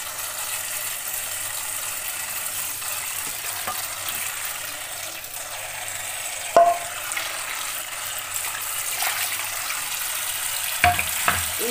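Steady running water hisses throughout as a greasy frying pan is rinsed, with a few sharp clanks of the metal pan being handled, loudest near the end.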